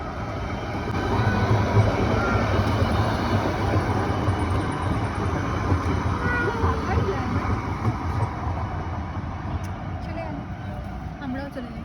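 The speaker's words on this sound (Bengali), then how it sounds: "দেখো লাইট রেল আসছে বলে একটু দাঁড়ালাম একটা শট নেব বলে" Light rail train on a newly built line in its testing period, a steady low rumble of wheels on rails passing nearby for several seconds, with wind noise.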